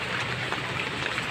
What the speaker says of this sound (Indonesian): Ingat, ini mah hujan.